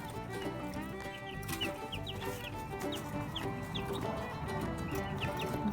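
Flock of chickens gathered around a feeder, faint repeated clucks and soft chirps scattered over a constant farmyard background hum.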